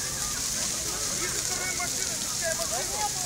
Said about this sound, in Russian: Горит машина, Honda.